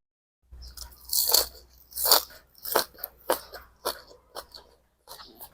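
Crunchy fermented mustard greens are chewed close to the mic, a series of loud wet crunching bites that slow and grow softer over several seconds.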